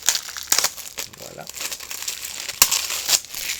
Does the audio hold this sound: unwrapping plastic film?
yes